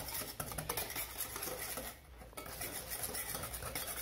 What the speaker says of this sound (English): Mix the mascarpone cheese to our egg yolk with sugar